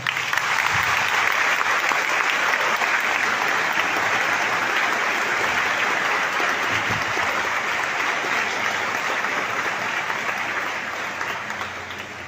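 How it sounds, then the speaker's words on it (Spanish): Sustained applause from a church congregation in Maracaibo, loud and steady, with dense clapping that stays even for about ten seconds before tapering slightly at the end. "un fuerte aplauso"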